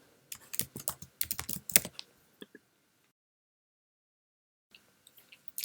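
Mac keyboard keys tapped in a quick run while a folder name is typed, with soft close clicks for about two seconds, a silent gap, then a few scattered taps.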